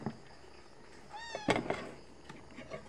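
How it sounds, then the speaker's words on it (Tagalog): A cat begging to share a breakfast of chicken gives a single clear meow up close, amid light clatter and a soft, noisy background. "May pusa po, nakikisalo."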